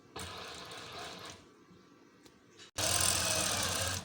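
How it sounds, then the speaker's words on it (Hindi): A sewing machine stitches lace along a marked line, running in a steady close whir, pausing briefly, then starting again louder. "इस तरह इस लाइन के बराबर बराबर सिलाई करनी है।"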